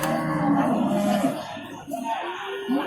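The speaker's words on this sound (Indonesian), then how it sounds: "Sapi dari Jawa Tengah ini bos." Cattle from Central Java at a village livestock market in Jatirogo, Tuban, give a few low moos close by amid the murmur of the crowd.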